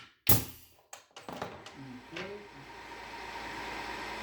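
A nail gun firing a nail through wooden trim into the plate: one sharp, loud close bang, followed by a few softer knocks and handling sounds, then a quiet hum and faint indistinct speech.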